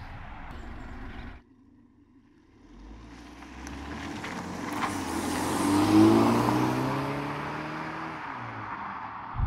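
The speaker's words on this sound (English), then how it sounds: "How about we take this car out for a spin?" BMW 420i G22 2021 car driving, its engine rising from a low idle into a steady, building drone that swells loudest around the middle and holds, with road and wind noise close up and no voices.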